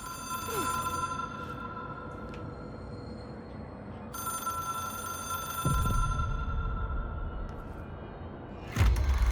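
A telephone rings in the video game Control, a steady electronic bell tone repeating in long bursts over low ambient rumble, with a brief loud thump near the end.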